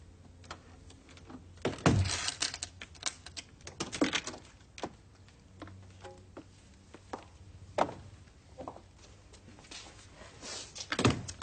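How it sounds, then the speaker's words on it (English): A door chain rattles free and a door opens indoors, with a few sharp metallic clanks and knocks spread out over several seconds against a quiet room, no voices in between. "Take the chain off the door"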